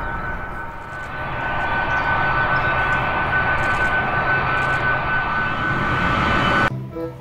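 A fighter jet roars steadily and loudly nearby, a broad sustained engine rush that swells slightly and then cuts off sharply near the end.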